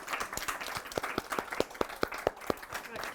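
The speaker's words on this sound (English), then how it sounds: "A round of applause for Princess Smarty Pants." A small crowd applauds a drag performance, a short burst of scattered, uneven hand claps at moderate distance.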